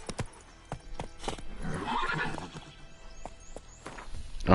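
Horse Roach in The Witcher 3 trots with steady clip-clop hoofbeats and lets out a loud whinny in the middle, close and clear with no voices.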